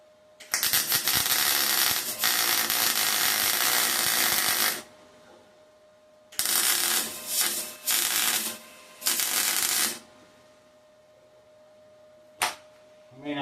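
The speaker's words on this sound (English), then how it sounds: "you can hear if you're welding, right? Plenty of penetration" MIG welding on a Ford Zodiac MKIV body, loud crackling, sizzling arc bursts of several seconds each, separated by quiet pauses, with a short final burst.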